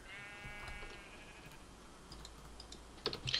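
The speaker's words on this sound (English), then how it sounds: "Oh, and sheep." Sheep bleating in the Minecraft video game, a short wavering bleat at the start with faint game clicks and sounds later on, fairly quiet throughout.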